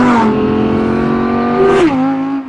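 Audi R8 V10 plus with a naturally aspirated V10 engine accelerating hard on a racetrack, a loud, close, sustained high-revving wail that rises in pitch, dips briefly at a gear change, then climbs again.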